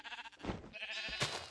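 Game sheep in a Minecraft Star Technology modpack bleat in a short burst of overlapping, wavering cries, fairly close and loud, with no talking over them.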